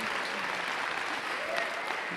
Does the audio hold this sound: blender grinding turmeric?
no